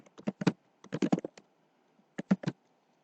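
Keys on a computer keyboard tap out a Linux command in quick clustered bursts, crisp and close, with a short pause before a final flurry of strokes; no voices.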